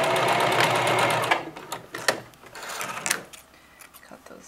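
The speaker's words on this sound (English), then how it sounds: "Sew it on the 15, reversing at both ends." Sewing machine stitching a fabric pocket seam, reversing at both ends: a fast steady buzzing run for about a second, then short bursts and clicks as it stops and backs up.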